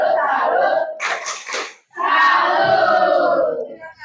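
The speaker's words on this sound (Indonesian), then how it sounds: "Oke, kita beri tepuk salut ya." A group in a classroom-style gathering claps briefly in a cheering routine, a short burst of hand claps set between stretches of chanting children's and adult voices.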